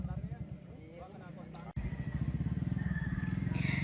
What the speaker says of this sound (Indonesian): Razia menyasar motor yang bersuara bising dan menggunakan knalpot tidak standar